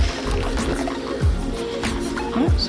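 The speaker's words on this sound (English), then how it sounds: "Rinse both of these at the same time," Dishes are rinsed by hand under running water in a kitchen sink, a close steady splash and trickle with gurgling drips and faint clinks of dishware.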